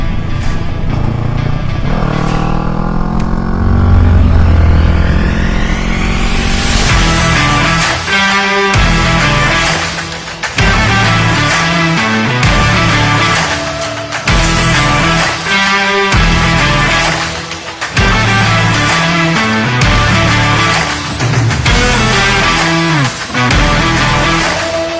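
A Honda Rebel with a Shorty GP exhaust is ridden, recorded from inside the helmet with the visor up: the engine accelerates up through the gears with rising pitch, then cruises with repeated shifts and fluctuating throttle amid wind noise.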